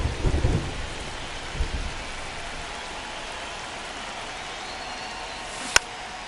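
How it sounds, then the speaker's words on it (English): Steady rain pours over a ballpark in a baseball video game, dense and constant, with a low rumble of thunder early on and a sharp crack near the end. "This rain is not letting up."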